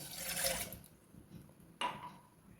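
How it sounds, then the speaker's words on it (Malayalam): A glass of water is poured into a cooking pot, heard as quiet, close splashing and trickling with a brief second splash near the end. "ആദ്യം തന്നെ നമുക്ക് പാത്രത്തിലേക്ക് നമ്മളെടുത്ത് വെച്ച ഒരു ഗ്ലാസ് വെള്ളം ഒഴിച്ചു കൊടുക്കാം"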